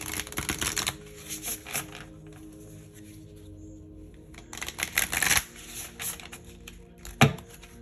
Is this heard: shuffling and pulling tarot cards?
yes